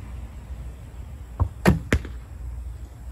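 An arrow shot from a recurve bow, with a soft twang and then quick whooshing zips in the air and a thud, all within about half a second over quiet outdoor ambience.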